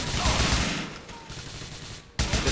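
AK-47 assault rifle fire in the video game GTA 4, a dense stream of loud, rapid shots filling the clip with a brief lull near the end before the barrage resumes.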